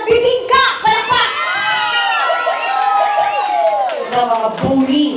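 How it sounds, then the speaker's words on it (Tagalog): Crowd of children at a party game shouting and clapping, loud voices overlapping and rising together over several seconds, with bursts of claps and cheering. "palakpakan at sigawan"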